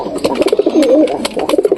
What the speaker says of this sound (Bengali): এই যে কবুতরগুলো দেখতে পাচ্ছ